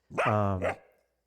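A human voice run through a Voicemod voice changer imitates a dog, giving one drawn-out bark-like howl followed by a shorter second yelp, close and loud with a brief tail.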